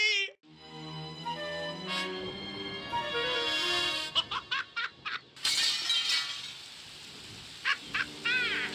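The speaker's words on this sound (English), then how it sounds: "Mooncalf jumped screaming through the stained glass window and began to climb the temple." In the video game Discworld Noir, a stained glass window shatters as a character leaps screaming through it. A tonal cry opens, then crashing glass and scattered tinkling shards follow over a dramatic musical backdrop.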